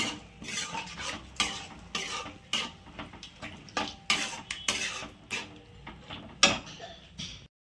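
A spoon stirs and scrapes yogurt cooking down over very low heat in a pan for a Bengali fish curry, giving irregular metallic taps and scrapes against the pan at close range with no talking.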